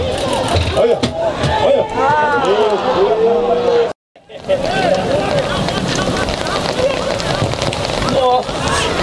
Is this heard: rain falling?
yes